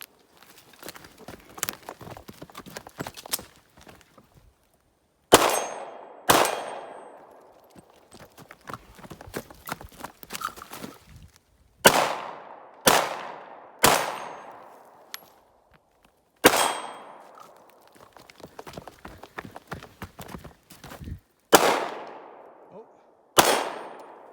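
Luger P08 pistol fired during a timed shooting run, with a series of loud, sharp outdoor gunshots in uneven clusters, each followed by a ringing decay, and fainter clicks and handling noises in between.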